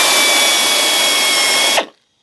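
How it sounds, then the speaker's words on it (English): A power drill whines steadily at high speed for nearly two seconds while pre-drilling a hole to mount a speaker in a 2007-2013 GM truck, then cuts off abruptly, leaving near silence. "I'm going to pre-drill it so I don't crack it."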